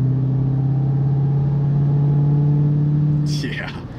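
Big 6.2-liter V8 of a 2021 Dodge Charger Redeye holding a steady, deep rumbling idle up close, easing off near the end as a brief rustle cuts in.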